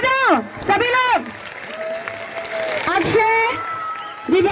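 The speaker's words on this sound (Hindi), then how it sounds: "Please ताली बजाओ सभी लोग" Students and guests at a school Children's Day celebration clap together, a moderate wash of applause under a loud voice announcing names, with cheering-like shouts between the words.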